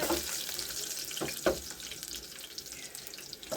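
Onions frying with salt in a pot give a steady, faint hiss and sizzle, broken by a couple of short clinks or stirring sounds.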